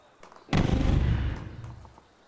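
In a video game, a sudden loud explosion booms after a brief quiet moment, then rumbles and fades over about a second and a half.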